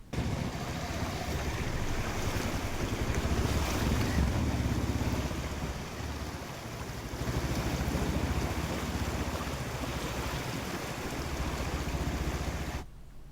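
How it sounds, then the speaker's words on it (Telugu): Floodwater of the Godavari river, swollen by heavy rains, rushes in a loud, continuous roar mixed with gusting wind buffeting the microphone, swelling and easing in waves. "భారీ వర్షాలకు గోదావరి, శబరి నదులు ప్రమాదకర స్థాయిలో ప్రవహిస్తున్నాయి."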